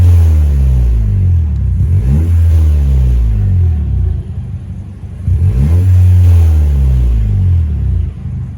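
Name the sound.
2020 Toyota Corolla XS with Powerflow exhaust engine revving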